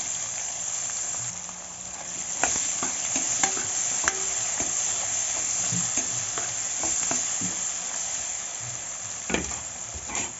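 Onions fry in hot oil with mustard seeds, cumin, garlic and curry leaves in a pan, giving a steady close sizzle with occasional scraping and tapping as a spoon stirs.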